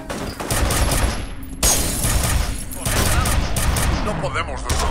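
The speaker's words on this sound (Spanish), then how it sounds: "¿Escuchas disparos? Escucho disparos." Rapid gunfire in the video game F.E.A.R.: dense, loud automatic bursts run almost without pause, with brief breaks between volleys and a faint high tone over the shooting.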